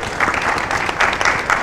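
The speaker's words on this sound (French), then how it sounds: "Et vraiment, je demanderai à ce que vous applaudissiez." An audience claps at a book signing for an economics book, a burst of steady, dense applause from a crowd in a hall, fairly loud and close, lasting under two seconds.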